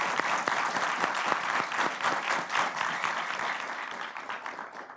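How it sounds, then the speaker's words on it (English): A studio audience breaks into sustained, dense applause on a television show, the clapping steady and fairly loud before tapering off slightly toward the end. "Please join me in applauding Omega."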